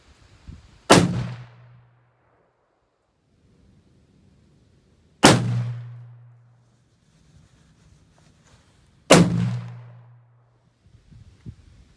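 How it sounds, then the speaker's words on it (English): Three loud, sharp rifle shots from a Ruger Precision rifle in .338 Lapua Magnum firing IMI 250-grain ammunition at about 100 yards, spaced roughly four seconds apart, each with a quick decaying boom and quiet gaps between. "we're going to go ahead and get on with our first shot"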